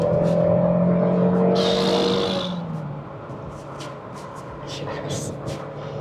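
A 1990s Citroen ZX 16V hot hatch engine revs hard with a rising, loud tone, then eases off into a rougher, quieter drone with clicks and bumps from the cabin.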